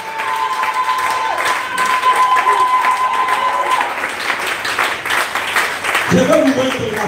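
A church congregation applauds and cheers in acclamation, a dense sustained wash of clapping and voices with singing or shouting mixed in, loud and continuous throughout.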